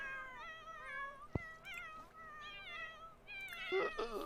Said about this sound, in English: chorus of cat noises